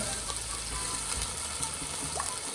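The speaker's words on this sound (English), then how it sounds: "Add a little bit water" Water splashes and gurgles steadily into a pot of Sri Lankan chilli crab curry with roasted curry powder, a soft continuous pour with faint clinks over a low background hum.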